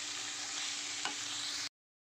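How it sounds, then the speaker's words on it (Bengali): Cabbage is stir-fried with a hilsa fish head in a pan, giving a steady close sizzle with a brief scrape of stirring near the middle before the sound cuts off abruptly. "এই বাঁধাকপিটা দিয়ে দেবো, দিয়ে এইটার সাথে এবার ভালো করে কষাবো"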